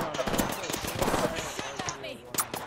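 Rapid bursts of Hemlock burst rifle fire in an Apex Legends match, sharp repeated cracks in quick clusters mixed with other in-game gunfire and effects, with a voice talking underneath.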